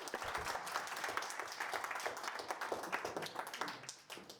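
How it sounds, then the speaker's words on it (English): An audience at a systems talk claps in a steady, dense round of applause that carries on throughout, moderately loud and slightly distant. "Give him a round of applause."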